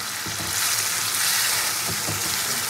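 Fish and spice paste sauté together in a pan, giving a loud, steady, hissing sizzle with faint stirring scrapes and no voices.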